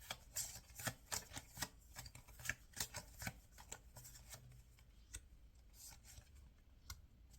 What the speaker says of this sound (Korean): 카드를 마지막으로 한 번 더 뽑아볼게요